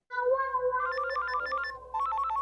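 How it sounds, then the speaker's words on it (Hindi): A mobile phone ringtone plays a repeating electronic melody of bright tonal notes over a low steady hum, loud and continuous, with a brief dip before the tune resumes. "किसका फोन है?"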